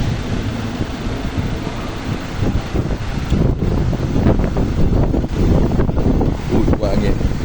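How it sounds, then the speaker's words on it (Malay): Strong wind buffets the microphone outdoors on a trip to Melaka, a loud, constant roaring rumble that swells and dips throughout and completely covers any other sound. "Kuat angin."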